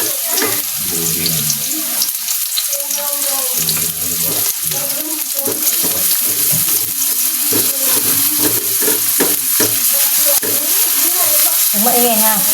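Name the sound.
sautéing garlic and onion in a pan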